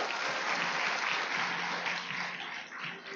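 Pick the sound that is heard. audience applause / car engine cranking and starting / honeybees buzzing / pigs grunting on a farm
audience applause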